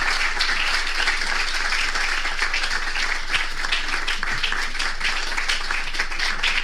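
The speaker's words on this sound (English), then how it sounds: "Can we make that round of applause more?" Sustained applause from an audience after a lecture at Harvard University, with dense, even clapping throughout and no pauses.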